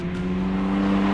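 Sports car engine pulling in sixth gear from low revs, a steady, loud droning hum with strong low harmonics, held evenly throughout.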